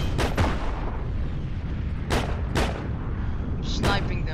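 Gunfire in the video game Heroes & Generals: several sharp, loud shots spaced irregularly, some in quick pairs, ringing over a rumbling battlefield background.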